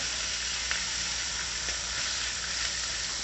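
Slices of pre-cooked pork roll sizzle in a frying pan, a steady close hiss of frying fat with faint crackles and no voices.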